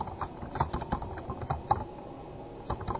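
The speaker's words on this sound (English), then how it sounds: "Now you're going to type" Fingers typing on a computer keyboard, a quick run of irregular key clicks close by, with a short pause before a final few taps.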